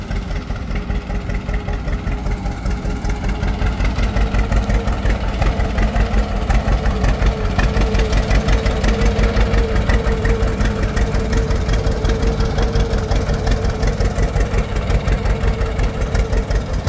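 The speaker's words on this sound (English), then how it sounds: "John Deere D." A John Deere D tractor idles steadily at a 2024 show, its engine note loud, continuous and evenly pulsing throughout with no voices over it.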